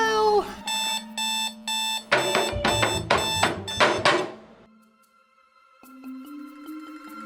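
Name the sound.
alarm clock going off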